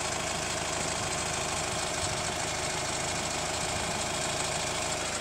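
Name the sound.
diesel engine knocking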